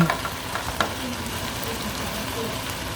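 Zucchini and other vegetables dropped into a pan of frying boneless chicken give a steady, moderate sizzle with a few stirring knocks, while a voice talks over it.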